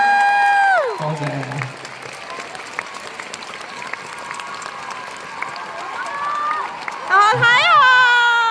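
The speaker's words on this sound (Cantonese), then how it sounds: "俾啲掌聲啦，俾多啲掌聲我哋" Concert audience applauding at a Hung Hom arena show. A dense, sustained wash of clapping and crowd noise fills the middle, with amplified voices from the stage before and after it.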